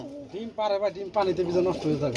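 Golden Sweep pigeons coo in low, throaty, warbling calls close by, a few rolling phrases in a row, with a voice talking over them.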